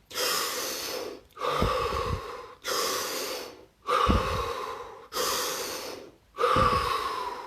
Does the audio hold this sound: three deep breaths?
yes